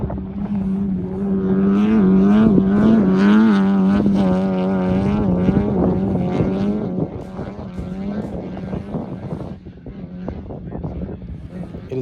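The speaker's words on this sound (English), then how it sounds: "I just want you guys to listen to the new A1 exhaust we're running" Off-road race truck fitted with a new A1 exhaust, engine idling and revving with a deep, throaty tone that rises and settles, close by, while a person talks over it.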